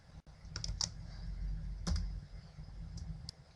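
Keystrokes on a computer keyboard while entering a spreadsheet formula, a few scattered taps close by and quiet, with no one speaking.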